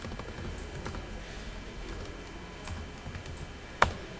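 Code being typed on a computer keyboard for an Android app, a soft, uneven patter of key presses close by, ending with one sharper, louder keystroke near the end, with no talking.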